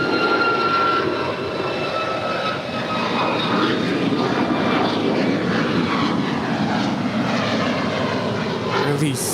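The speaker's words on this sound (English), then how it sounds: "That is Alaska 503 departing to Seattle. It's a 2-year-old 737 MAX 9." A two-year-old Alaska Airlines Boeing 737 MAX 9 departing LAX for Seattle gives a loud, continuous jet roar with whining engine tones, sustained and close throughout.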